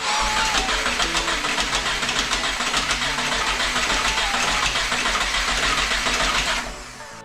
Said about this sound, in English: I could turn the engine over a few times without starting so that I could prime the oil